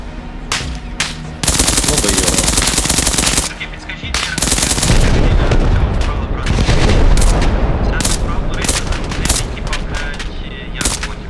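Realistic Arma Reforger combat during a factory assault: loud, sustained bursts of automatic gunfire with sharp individual shots and heavy booming reports, near and overlapping, with brief gaps between volleys.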